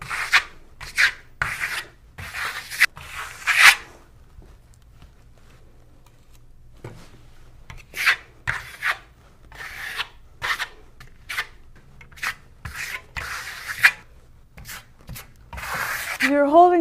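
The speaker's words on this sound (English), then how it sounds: "You're holding the trowel fairly low to the surface. It's not a very high angle. And you're pulling it fairly tightly." A trowel skims a thin coat across a surface, held low and pulled tightly, giving close scraping strokes in bursts with pauses between, and a faint low background hum.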